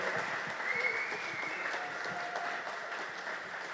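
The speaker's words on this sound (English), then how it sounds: "I would like you all to give a big round of applause to Claire and Carly who have hosted tonight" Audience applause for hosts Claire and Carly at the close of a business festival presentation, a steady wash of clapping from a crowd, even and sustained throughout.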